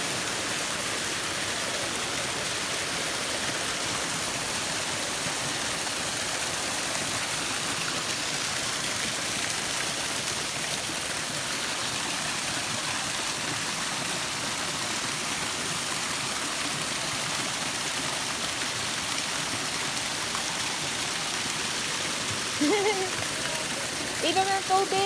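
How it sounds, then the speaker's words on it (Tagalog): Strong stream current beside the Wilson Trail in Hong Kong, a steady rushing hiss of flowing water throughout, with a brief voice near the end. "Medyo malakas na ditong current,"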